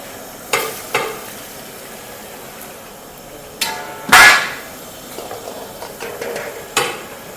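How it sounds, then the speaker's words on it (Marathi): Brinjals go into hot oil in a pan for frying, with a few sharp clanks of a utensil against the pan, a louder splash-sizzle burst in the middle, and scattered scraping and tapping afterward. "आता आपण तळून घेऊया आता वांगे तळायला घेऊ आपण तेल ठेवूया आपलं तेल बी गरम झालेलं आहे आता आपण वांगे तळूया"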